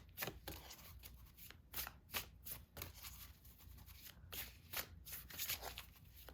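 A deck of tarot cards is shuffled repeatedly at close range, producing rapid, crisp riffling bursts in an irregular rhythm with no talking.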